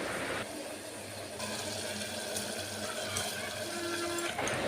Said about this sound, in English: now I am going to add rice along with water